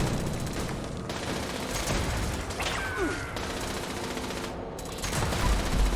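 Gunfire from the video game Fallout 76, with a raid weapon firing a dense, loud run of rapid shots that blur into a continuous roar with no clear gaps.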